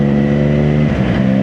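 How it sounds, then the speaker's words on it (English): A Triumph Daytona 660 motorcycle with a non-standard exhaust drones loudly and steadily up close, the engine pitch dipping briefly before settling back. "It does have a non-standard exhaust on this bike"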